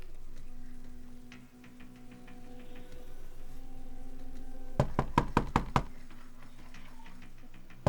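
Police officers knocking on an apartment door from a hallway: a quick burst of about six loud, sharp raps close by, standing out over a steady low room hum.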